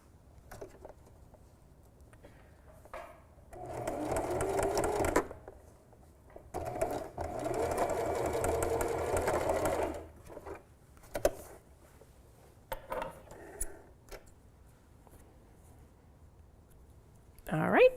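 A sewing machine stitches a small fabric mouse ornament in two longer whirring runs and a few short bursts, close by, with quiet pauses and some faint handling sounds between them.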